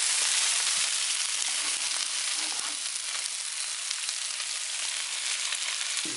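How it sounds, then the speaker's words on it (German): Food searing in a hot pan, browning on both sides, gives a loud, steady, unbroken sizzle with a fine crackle throughout and no voices. "gescheit anbraten lassen."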